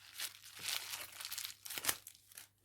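Plastic packaging around a small cross-stitch magnet crinkles and rustles up close, in several quiet bursts of crumpling and light tearing with brief pauses between them.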